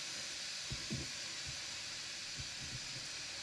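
A steam control valve in a video game hisses steadily, a continuous bright airy rush with a few low thumps and knocks under it, no talk.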